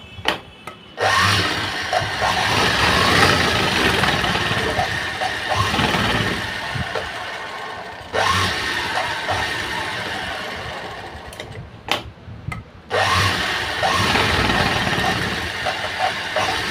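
Sewing machine stitching a blouse, running in steady continuous bursts of mechanical whirring, with short pauses between runs; close and fairly loud, no talking.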